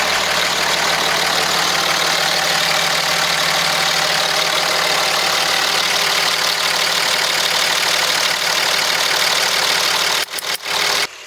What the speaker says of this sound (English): it's happy. It's a happy truck. You can hear it in the back. It's just like a sewing machine. Just hear how smooth it is.